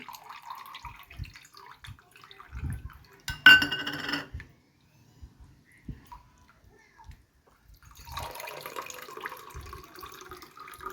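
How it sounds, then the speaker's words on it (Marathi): Raw mango and jaggery sherbet strained into two glasses in a kitchen: a short burst of liquid splashing and glass clinks, then a longer, softer pour with faint knocks and small handling sounds, close by. "सगळं असं दोन ग्लासामध्ये आपण छान गाळून घेऊ"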